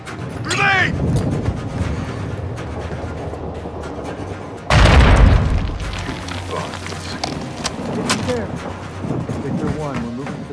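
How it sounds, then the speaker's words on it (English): A grenade going off in the video game Call of Duty Modern Warfare, one heavy booming blast in the middle of a noisy firefight with gunfire and shouted voices around it. "Grenade!"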